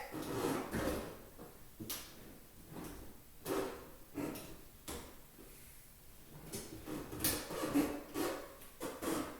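A dishwasher being shimmied back into its slot under a counter during installation, making repeated scraping, thumping knocks and sliding bumps at an irregular rhythm, close by and moderately loud.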